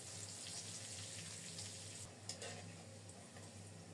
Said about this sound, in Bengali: খুব সুন্দর মতো উচ্ছেগুলো ভেজে নেব